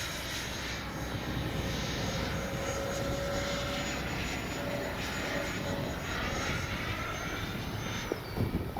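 An FMS 70mm Yak 130 radio-controlled jet flies under a clear sky, its ducted-fan whine a steady, distant drone that holds level throughout with slight shifts in pitch.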